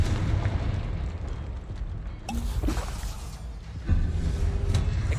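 A Confringo blast spell going off in Hogwarts Legacy, booming explosive bursts over a dense, continuous rumble of game action, with a sharper crack near the end and no voices.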